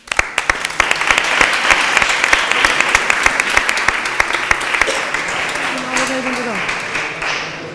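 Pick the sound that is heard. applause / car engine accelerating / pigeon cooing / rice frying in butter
applause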